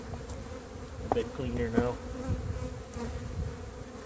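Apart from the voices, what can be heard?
bees buzzing around an apiary hive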